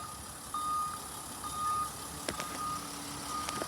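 Truck reversing at an ambulance station, its reversing alarm sounding a series of evenly spaced steady beeps over a low engine rumble, at moderate distance, with a few clunks near the end.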